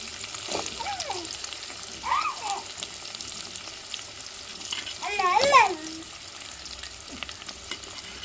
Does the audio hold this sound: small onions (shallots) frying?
yes